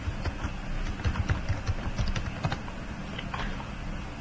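Rapid typing on a computer keyboard while filling in an online job application form, with close, crisp key clicks in uneven bursts and no voices.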